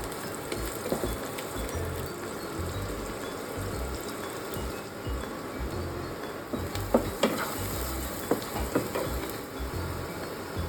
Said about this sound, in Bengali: পেঁয়াজ আর কাঁচা লঙ্কাটাকে নুন, হলুদ গুঁড়ো, লাল লঙ্কার গুঁড়ো আর গরম মশলা গুঁড়ো দিয়ে ভেজে নেব।